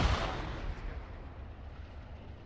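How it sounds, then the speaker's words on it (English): A single loud, rumbling blast of gunfire in the Arma military video game opens the passage and then decays into a long, echoing roll across open terrain, with no voices. "Shoot him, Algador, shoot it"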